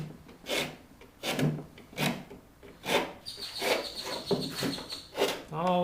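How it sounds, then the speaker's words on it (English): A rat tail file rasps into the nocks of a wooden bow in rhythmic back-and-forth strokes, about nine close scraping passes, with birds chirping in the background. "All with the rat tail file."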